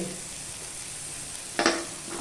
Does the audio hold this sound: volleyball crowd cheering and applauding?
no